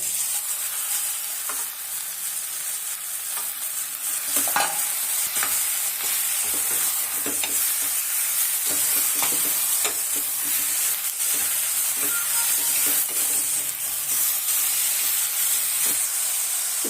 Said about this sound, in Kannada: ಈಗ ಮಟನ್ ಸೇರಿಸ್ತಾ ಇದ್ದೀನಿ